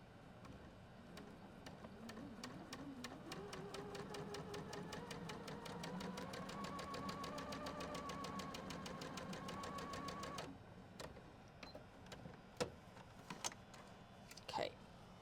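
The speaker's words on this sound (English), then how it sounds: "And then we're going to sew" A sewing machine stitches fabric triangles together in a steady, rapid mechanical rattle for about ten seconds, close and moderately loud. It then stops, leaving scattered clicks and handling noises.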